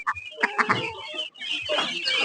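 Kaveri breed poultry birds at a farm exhibition in Palus cluck and squawk in a close, lively cluster of calls, rising and falling over a couple of seconds with crowd noise behind.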